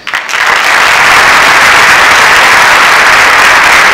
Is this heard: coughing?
no